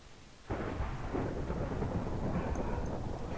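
Thunderstorm ambience in the video game Minecraft: after a quiet half second, rain and rolling thunder rumble in loudly and continue steadily to the end.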